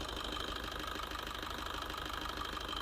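A Maruti Baleno Alpha car engine idling, a steady, even low hum with a fine regular pulse, close and unchanging throughout.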